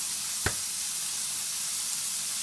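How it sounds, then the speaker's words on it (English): Bacon frying in a pan gives a steady, even sizzling hiss throughout, with one brief click near the start and no voices. "During the time my bacon is cooking"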